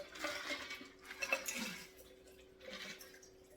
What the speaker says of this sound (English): We're going to strain and pour into our glass.